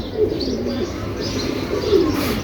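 A black pigeon picked up from the roadside coos softly in a few low, rolling phrases nearby, with faint chirps in the background and no talk.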